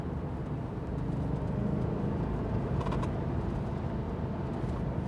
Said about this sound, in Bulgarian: От 4500 като че ли нагоре малко се събужда двигателя